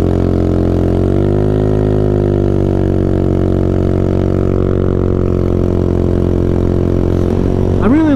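A Honda Ruckus scooter engine pulls away from a green light, its steady close drone rising in pitch as it accelerates and then holding a constant whine, loud and continuous.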